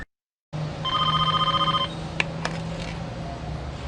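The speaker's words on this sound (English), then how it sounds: "A phone's gonna be ringing the other side of the Trans-America building." A telephone rings in a San Francisco cutscene from the 1999 video game Driver, a loud electronic bell trill lasting about a second over steady background hum, followed by a couple of faint clicks.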